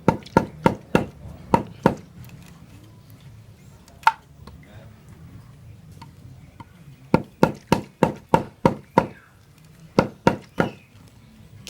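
Sharp blows of a golok machete chopping bamboo, struck in quick rhythmic bursts with short pauses between groups, each hit a crisp, close knock over a faint background.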